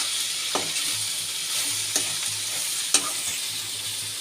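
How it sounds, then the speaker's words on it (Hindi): Ground spices hiss and sizzle in a pan of frying bitter gourd, a steady fry punctuated by three distinct scraping stir strokes, close and with no talk. "तो चलिए अब हम इसको डाल देते हैं और इसको हम अच्छे से चला देंगे"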